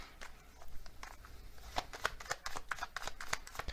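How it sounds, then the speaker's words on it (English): Oracle cards are shuffled by hand in a quiet room, giving a run of soft papery riffles and crisp flicks that grow denser and snappier toward the end, close by with no talk. "So I'm going to get some more oracle cards here."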